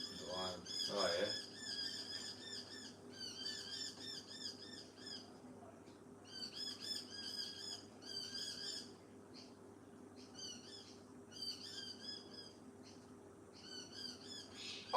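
Several Australian birds squawk and screech in rapid, overlapping bursts, a noisy squabble repeating throughout over a low background hum, with a brief voice early on.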